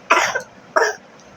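A child with a bad cold coughs twice, two close, harsh bursts separated by a short pause, with no talking.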